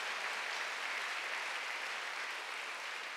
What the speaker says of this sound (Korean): 시험 박수로 하세요.